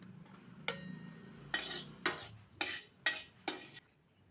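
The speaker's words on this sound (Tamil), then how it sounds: "இப்போ ஜாதிக்காவை வறுப்போம்." Nutmeg is dry-roasted in a pan for biryani masala, with a spoon stirring and scraping in five or six distinct sharp metallic strokes over a quiet background, close and clear.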